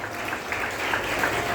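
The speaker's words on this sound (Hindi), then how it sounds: "एक बार जोरदार ताली बजा करके" An audience at a Bhagwat Katha religious discourse applauds loudly, a dense, continuous clatter of clapping that stays steady throughout.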